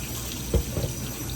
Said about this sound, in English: So what I'm gonna do is just run cold water over it and kind of just stir it around so I can get this salt off.